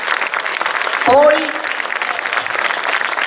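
An audience applauds at an amateur theatre show in Sutera, with dense, steady clapping throughout and a brief voice cutting in near the start.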